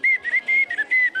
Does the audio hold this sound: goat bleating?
no